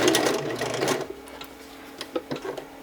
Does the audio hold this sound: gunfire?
no